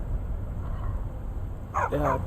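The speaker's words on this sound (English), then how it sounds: "Don't mind the dogs. They get anxious when they haven't had dinner." Dogs in the video game Skyrim give a couple of short, close barks after a stretch of quiet indoor room tone.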